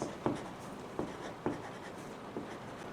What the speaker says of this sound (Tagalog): I will write